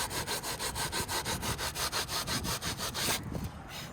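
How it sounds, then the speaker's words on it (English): A boat deck fitting is sanded by hand with quick, regular back-and-forth rasping strokes, about four per second, close and moderately loud, stopping just before the end. "So what I'm gonna do is I'm gonna sand this."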